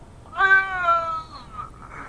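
A cat gives one clear, close meow lasting about a second, rising then trailing off, against quiet room noise without speech.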